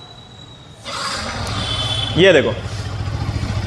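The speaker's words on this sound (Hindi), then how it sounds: "बाइक कर देते हैं चालू" A Yamaha R15 V4 motorcycle with a changed exhaust starts up and settles into a steady idle close by, with a brief rise in revs as someone talks over it.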